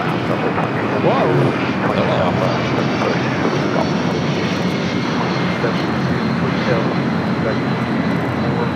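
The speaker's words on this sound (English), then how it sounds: "As Delta Airlines 631 taking off to Mexico City on a 21-year-old 757-200." A 21-year-old Delta Boeing 757-200 takes off from LAX for Mexico City, its jet engines a loud, steady broadband roar that holds throughout without fading.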